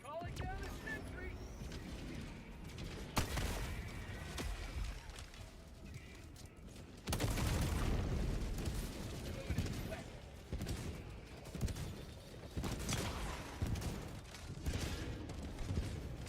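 Rapid bursts of automatic gunfire in the shooter game Helldivers 2 crackle through a dense, busy battle mix, with loud volleys and explosions rising and falling over the stretch while players talk over the action.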